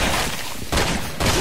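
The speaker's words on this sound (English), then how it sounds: "So I'm going to test the machine gun part of the Bear Commander on Joavo" The machine gun of the Bear Commander in Resident Evil 6 fires two or three heavy, close bursts in quick succession, each a dense crackling blast.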